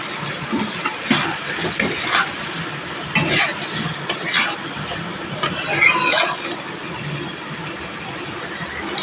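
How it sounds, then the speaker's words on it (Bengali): Fried yam and potato pieces sizzling in oil with spices as a spoon stirs them in a pan, repeated scraping strokes over a steady frying hiss, close and fairly loud. "যে ওল আলুটা ভেজে রেখেছিলাম এটা এখানে দিয়ে নিলাম দিয়ে নেওয়ার পর দু তিন মিনিট ধরে ভালোভাবে কষিয়ে নেব"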